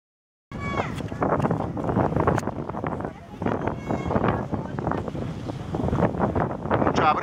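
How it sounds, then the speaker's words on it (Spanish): Breeze buffeting a camera microphone on the shore at Punta Chame, Panama, in the evening: steady, loud rumbling wind gusts fill the whole stretch with brief dips, no voices heard. "La brisa me mueve la cámara."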